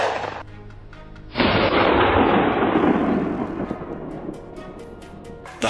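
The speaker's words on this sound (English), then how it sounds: "As soon as they moved to the most ideal position, gunshots immediately rang out." Rifle gunshots ring out during a wild hog hunt on a Carolina farm, a loud boom at the start and a second powerful blast with a long rumbling echo that fades over several seconds, then another shot at the end.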